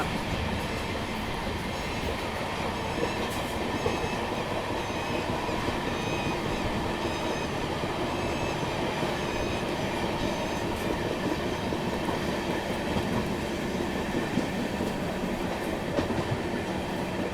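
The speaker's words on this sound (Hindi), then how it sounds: "सामने से आ रही है एक रैपिड रेल, जो कि मेरठ से आनंद विहार दिल्ली के बीच में चलाई जाती है" An Indian Railways train crossing a Rapid Rail train running between Meerut and Anand Vihar, Delhi, a steady loud rumble of wheels with rhythmic clatter throughout, heard up close from aboard.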